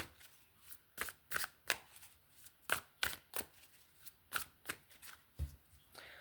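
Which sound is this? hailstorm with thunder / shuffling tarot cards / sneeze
shuffling tarot cards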